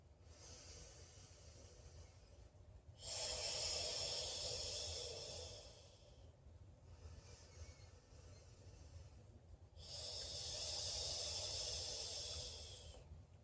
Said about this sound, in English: breathing in your nose, out your mouth